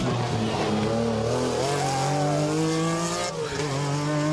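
A Group B rally race car engine revs hard and continuously, its loud, rising and falling tones filling the clip with no speech.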